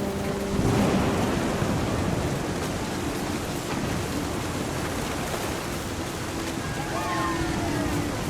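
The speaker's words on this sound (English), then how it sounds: "The thunder sounded much too close and full of angry power" A thunderstorm rages in the video game What Remains of Edith Finch, with steady loud rain-like rushing and low rumbling throughout, and a few faint tonal sounds near the end.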